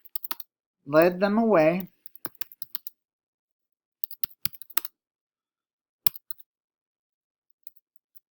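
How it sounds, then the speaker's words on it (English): Sparse clicks of typing on a computer keyboard, isolated keystrokes in short bursts separated by silence, with a brief spoken phrase near the start. "So let me type that sentence down here."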